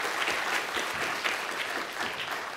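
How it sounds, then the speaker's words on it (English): An audience at a networking conference claps, producing a dense, even applause that stays steady and fairly close throughout, with no voices standing out. "Let's give him a round of applause."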